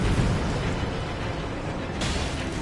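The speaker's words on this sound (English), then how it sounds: "Like I said, fireworks." Fireworks go off in the Elden Ring video game as a continuous loud rumbling roar of blasts, with a fresh burst near the end.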